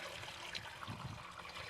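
A soft, steady trickle of water running from a hose, quiet and close, with no talking.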